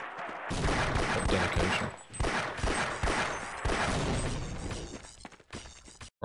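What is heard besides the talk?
gunfire in the video game Half-Life: Opposing Force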